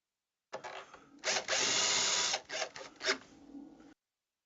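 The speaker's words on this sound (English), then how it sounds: "I'm just going to put this other screw in the bracket" A power drill drives a screw into a mounting bracket for a modern Roman shade, heard as a few short whirring bursts with one long sustained run in the middle, close and fairly loud with no talking.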